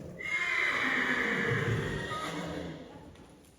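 A loud, close horse whinny rises and trails off over a few seconds, with faint background noise.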